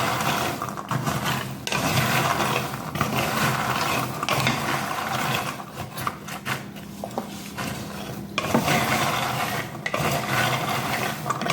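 Walnuts being roasted in a pan are stirred slowly, producing a steady close rattling and scraping of nuts against metal in irregular sweeps, with no voices.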